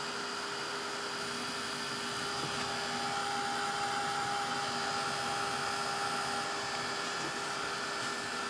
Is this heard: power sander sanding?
yes